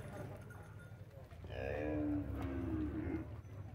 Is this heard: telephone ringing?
no